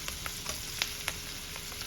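Onions fry gently in a pan on low heat, giving a steady soft sizzle broken by small pops and crackles, with no one talking.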